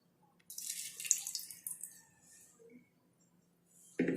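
Tamarind water pours into mashed brinjal in a kitchen, a soft, close trickle and splash lasting a few seconds, with a brief louder splash at the end.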